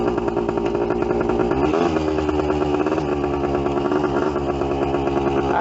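An old Yamaha enduro motorcycle, back on the road after sitting for twenty years, rides close and loud through its gears, its engine note rising and then dropping at each shift.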